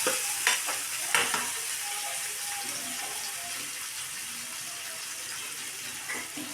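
A home cook stirs tomatoes and curry leaves frying in a pan, with a steady close sizzle and a few sharp scrapes and clinks from the stirring near the start.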